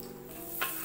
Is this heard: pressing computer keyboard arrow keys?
no